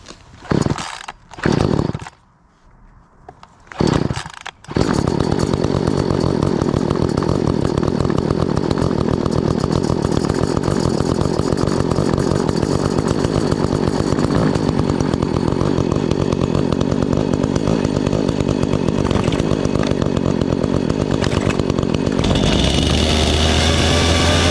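Several chainsaws, one of them an Echo, running on a 50:1 gas-oil mix: a few sputtering pull-start bursts, then a loud, steady, continuous engine roar close by that runs on without a break, with no voices.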